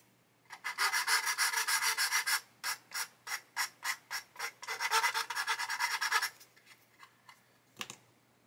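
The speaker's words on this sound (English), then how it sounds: "and then grab a sanding stick." A sanding stick rasps back and forth against a small hard plastic part of a 1/35 Takom AH-64E Apache model kit, first in a long steady run, then in quick separate strokes, then another sustained burst.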